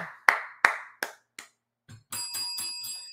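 A clapping sound effect: four sharp, evenly spaced claps, loud and close, then a brief tap and a bright ringing bell-like chime that repeats several times, with no talking.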